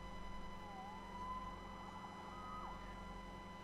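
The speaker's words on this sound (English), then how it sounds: "Saved by the siren." A faint, distant siren wails, rising and falling in pitch, barely above a steady low background hum.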